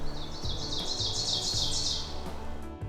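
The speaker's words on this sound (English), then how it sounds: "Summer at Gouldsboro includes 7 miles of trails complete with bird calls throughout." Birds call along wooded park trails in summer, with a rapid series of high chirps and tweets close by over a steady low outdoor rumble.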